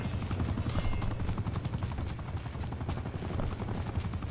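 Helicopter rotor thumping steadily and loudly through the whole stretch in a Call of Duty Black Ops 4 match, with rapid gunfire bursts mixed in.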